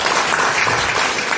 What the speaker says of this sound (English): Come on, you can give a clap.